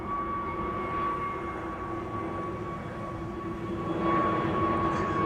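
Singapore Airlines A350 jet climbing out from runway 24 at Amsterdam Schiphol, a steady distant engine roar with a faint whine, slightly swelling toward the end.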